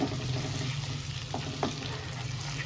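Chopped garlic frying in butter, a soft steady sizzle with a low background hum and a couple of brief utensil taps, quiet and close.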